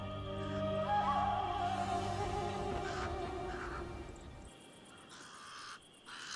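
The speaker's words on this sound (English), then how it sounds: "The pied crows are getting worked up about something." Pied crows call with harsh caws at a desert watering hole. The drawn-out calls carry over an open outdoor background and then fade, leaving quieter ambience.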